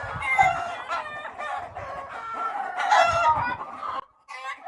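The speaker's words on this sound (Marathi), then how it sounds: "तुम्ही इथं बघितलं असेल काळे कोंबडे आहेत" Black country roosters crow and cluck close by, several drawn-out crows overlapping with short, throaty clucks in irregular bursts, loud and clear with brief pauses between calls.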